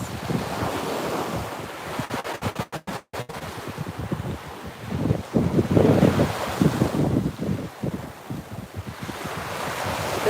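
Overcast beach with ocean surf, rolling waves swelling and breaking in a continuous wash, heavy wind buffeting the microphone with sharp gusty dropouts, no talking.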